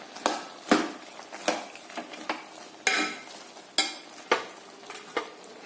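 Ground coconut paste being stirred into a pot of aviyal vegetable curry, a spoon scraping and sloshing in repeated strokes with soft wet clatter against the pot, close and moderately loud with brief pauses between.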